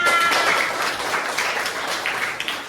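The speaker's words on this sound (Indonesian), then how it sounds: "Betul, tepuk tangan." A class of children clapping their hands together in a primary school classroom, a brief ragged round of applause that fades slightly toward the end.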